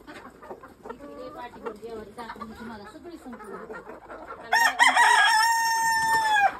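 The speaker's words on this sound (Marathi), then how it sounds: "आपले बारकुले कोंबडे अंड्यावर" Chickens cluck and a rooster crows close by at a home flock where hens are laying eggs, with someone talking over the birds early and a loud, sustained crow in the last two seconds.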